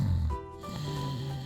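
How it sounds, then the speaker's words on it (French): Loud, drawn-out snoring from a sleeping wolf in a Little Red Riding Hood fairy tale: one heavy snore with a deep rumbling start, then a lower, steadier exhalation, close and alone. "trouva très bizarre d'entendre des ronflements aussi forts"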